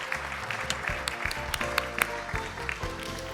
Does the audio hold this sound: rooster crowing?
no